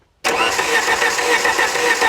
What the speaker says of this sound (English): ignition on, cranking.